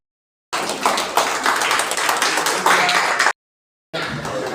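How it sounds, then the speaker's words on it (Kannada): Audience applause at an inauguration ceremony for a disability service centre, a dense burst of many hands clapping for about three seconds, cut off abruptly, then resuming briefly. "ಚಪ್ಪಾಳೆ ಬರಲಿ"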